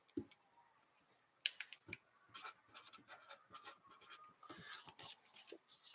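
A name being handwritten with a pen, soft scratchy strokes and small taps in short irregular bursts, close and quiet against near silence.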